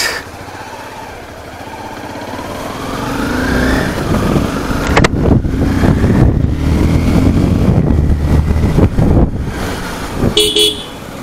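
Busy road traffic with a steady engine rumble and wind buffeting throughout, then a short car horn toot near the end. No one speaks.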